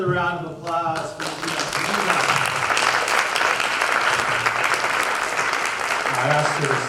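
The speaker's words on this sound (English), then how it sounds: "Another round of applause" An audience at a storytelling night bursts into sustained applause, dense clapping rising after a brief voice and holding steady before a voice returns at the end.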